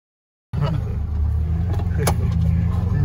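A Niva off-road car drives off through a forest, its engine rumbling steadily and loudly, with a brief knock partway through.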